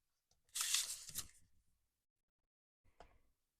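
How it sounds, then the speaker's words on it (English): Paper flaps for a junk journal pocket folio are scored with a tool: one longer rasping scrape, then a short second stroke after a pause, quiet and close. "And then I'm going to score the little flaps."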